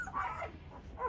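Newborn puppies from a litter of twelve whimper in two soft, high whines, close and faint, with no talk.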